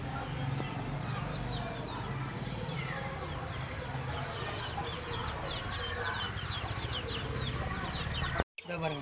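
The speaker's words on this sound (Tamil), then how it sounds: "இப்போ நம்ம கோழி குஞ்சிட்ட போவாங்க." Chicks and hens cluck and peep nonstop at a poultry farm where young birds are being vaccinated, with many overlapping calls close by, a busy background hum, and a brief dropout near the end.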